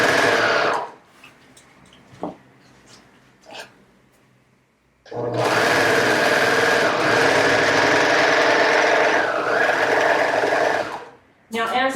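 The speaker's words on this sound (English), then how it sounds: "I can just go ahead and keep these even and serge this as I go along" A serger overlock machine stitches along the edge of jacket fabric, first in a few short bursts and then in one long, loud, steady run that hums and whirs close up.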